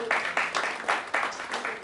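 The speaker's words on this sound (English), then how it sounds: "Please let's give him a round of applause." An audience at a climate crisis and business continuity conference claps for a speaker coming up to give a welcome address, a short burst of fairly quiet applause in uneven waves.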